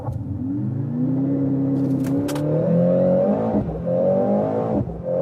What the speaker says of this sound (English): Mercedes C63 AMG, race start.